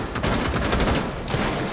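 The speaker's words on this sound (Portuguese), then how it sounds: "Mano, dei 3 tiros na cara do Jäger" Rapid bursts of video game gunfire in Rainbow Six Siege crackle loudly and continuously for a couple of seconds, dense and close, with no voices.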